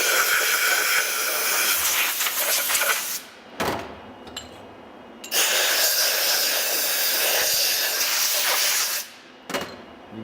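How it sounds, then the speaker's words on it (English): Compressed air blasting debris off engine parts during a JRZ engine teardown: loud hissing bursts with brief gaps between them, close and harsh. "grab our air. We blow all this stuff off. I know it's loud"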